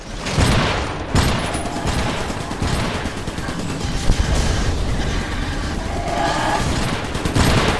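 Dense video-game gunfire in Iron Brigade, a continuous barrage of rapid shots and booming impacts layered over one another, loud and close for several seconds with no voices.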